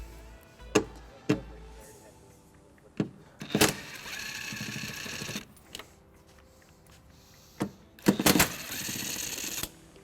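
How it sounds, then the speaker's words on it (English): Ratchet clicks and metallic clacks from a 10mm socket removing the driver's side tail light bolts on a 2012 Dodge Grand Caravan, sharp close taps and two short bursts of ratcheting separated by quiet. "We're going to remove these two bolts using a 10mm socket."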